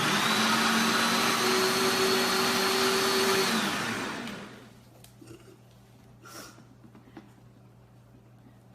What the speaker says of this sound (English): This is not the best blender.